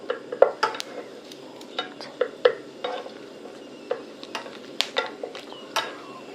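Kelp frying in oil as a spatula presses it down, sparse crackles and sharp scraping taps against the pan, moderately close, over a quiet bubbling background.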